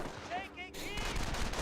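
MG42 machine gun fire rattles in the Company of Heroes video game, with rapid bursts of gunfire and battle noise, joined by brief in-game voice calls over the fight.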